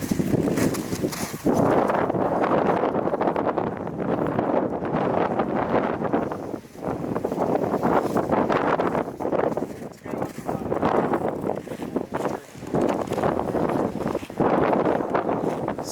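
Strong wind buffets a microphone on an open hillside on a cold night, a loud continuous roar with gusts swelling and dipping across the whole stretch, nearly drowning out everything else.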